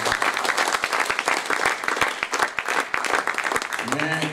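Loud applause from an audience at an event on assistive technology for visually impaired people, with distinct close hand claps punctuating a dense crowd clatter, and a voice briefly heard near the end.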